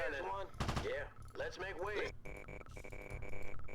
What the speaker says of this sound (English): So here's a skiff. So a skiff, little machine gun.